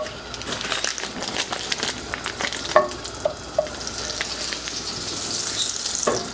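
Butter melting together with olive oil in a hot pan, sizzling steadily with a soft, continuous crackle, close up, with a few sharp clicks of utensils against the pan.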